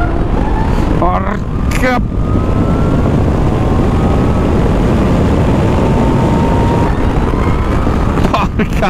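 A Zero DSR/X electric motorcycle in its sport mode pulls away hard, its motor whine rising steadily while wind roar builds loudly throughout; a man briefly exclaims near the start.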